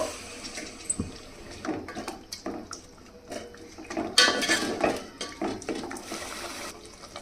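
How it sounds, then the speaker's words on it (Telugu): Water pours into a metal pot with clinks and scrapes of cookware, a short stream of liquid amid kitchen clatter. "ఇప్పుడు దీంట్లో ఒక చిన్న గ్లాస్ వాటర్ పోస్తున్నాను నేను"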